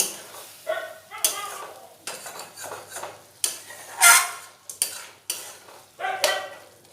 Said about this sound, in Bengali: দিয়ে এবার আলুটার সাথে ওই মশলাটাকেও খুব ভালোভাবে কষিয়ে নেব।